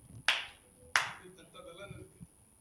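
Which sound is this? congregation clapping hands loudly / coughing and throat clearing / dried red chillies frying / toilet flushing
congregation clapping hands loudly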